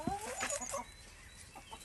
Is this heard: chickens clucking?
yes